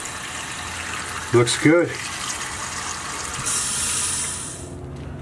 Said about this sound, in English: Let's see if we got some water going now.